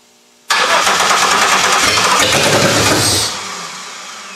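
A GM 3100 V6 fitted in a Toyota Camry fires on its first start, catching abruptly into a loud, rough roar that holds for a few seconds before dropping to a steadier, quieter idle.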